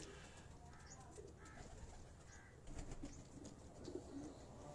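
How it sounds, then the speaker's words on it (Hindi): Salare Teddy pigeons on a rooftop loft in Abbottabad give soft, repeated low coos, faint and scattered over a steady murmur of outdoor background noise. "ये सलारे टेडी कबूतर हैं दोस्तों।"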